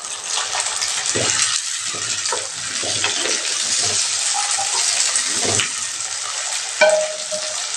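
Tomatoes with shallots fry in oil for a spicy dried fish thokku, giving a loud, even sizzle with repeated thumps and scrapes of a spoon, and no one speaking.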